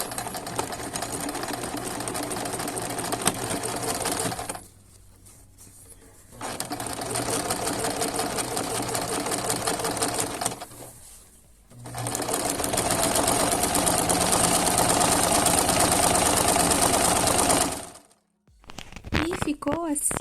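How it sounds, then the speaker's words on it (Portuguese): A sewing machine stitches fabric lining onto a crochet bag in loud, steady runs of rapid whirring, broken by two short pauses and a final stop, with the presser foot held close to the cloth. "Deixe o pezinho da máquina bem rente ao tecido, tá bom?"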